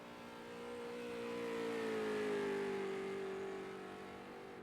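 A street stock race car on a qualifying lap at the Phoenix road course, its engine note rising and falling as it passes, swelling to a peak midway and then fading, with no voices.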